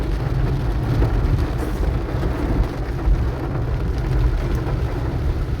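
Heavy torrential rain pours down steadily over a flooded area of Nazira near Rajapul, a dense, continuous roar that holds even in volume throughout, with no one speaking.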